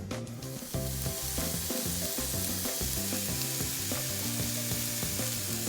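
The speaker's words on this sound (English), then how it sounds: "start sauteing and frying up the ground and also cooking the chicken" Vegan ground and chicken fry and sauté in a pan with a continuous bright sizzle and crackle, close and steady, with occasional stirring clicks underneath.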